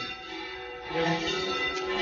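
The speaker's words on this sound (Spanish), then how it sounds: "como no sé si se escuchan las campanas, bueno, estas campanas tocan" Church bells ring across a hall in Spain during a mathematics lecture, a steady layered metallic chime sustained throughout at moderate, fairly distant volume with no talk over it.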